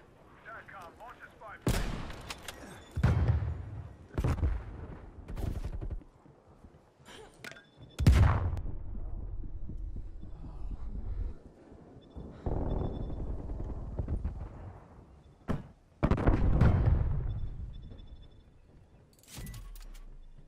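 In the video game Call of Duty: Black Ops Cold War, loud bursts of gunfire and explosive blasts hit in irregular clusters with quieter gaps between them. Excited player voices talk over the action.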